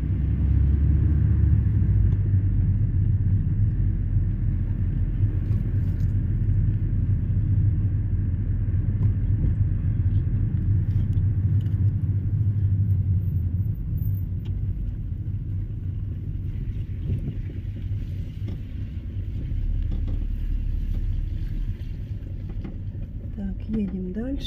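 A car travels along an old, once-asphalted road toward Lake Malaya Chebacha, giving a steady low rumble of engine and road noise that holds at an even level the whole way, with no voices.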